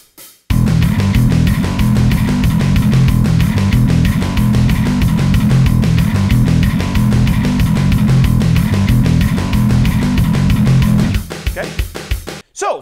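A bass guitar plays a fast, driving opening riff at 186 beats per minute, a dense, relentless stream of picked notes that is loud and unbroken before cutting off abruptly near the end.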